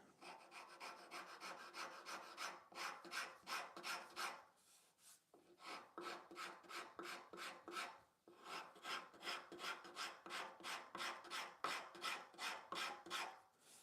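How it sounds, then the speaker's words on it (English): Fine rasp shaping a wooden leg, heard as a rapid regular rhythm of close, scratchy back-and-forth strokes continuing over many seconds with a couple of brief pauses, no voices. "I'm just using the fine rasp here because I don't want to take off too much material at once"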